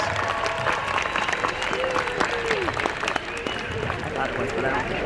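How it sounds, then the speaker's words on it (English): Graduation ceremony crowd claps steadily through a UCLA commencement for family and friends, with scattered voices and cheers mixed into the continuous applause. "let's give them all a big round of applause"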